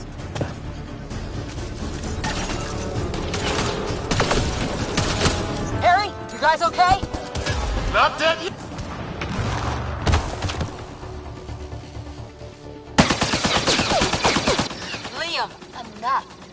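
Rapid gunfire bursts and booms from a Mass Effect Andromeda firefight, loud and dense throughout, with people shouting over the shooting.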